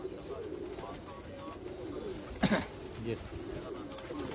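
Pigeons in a fancier's loft coo in low, soft rolling murmurs beneath someone talking, with a brief flutter or scuffle partway through.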